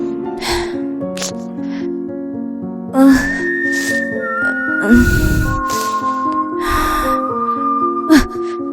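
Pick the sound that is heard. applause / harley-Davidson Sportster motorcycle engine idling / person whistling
person whistling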